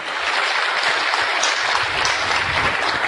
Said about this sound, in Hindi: तो हमारी कमिटेड टीम के लिए जोरदार तालियां।